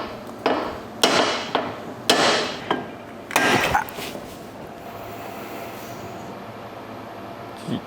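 Metal hammer blows on a stuck part during car work, five or six sharp loud strikes in an uneven rhythm, close by, followed by a quieter stretch of background noise.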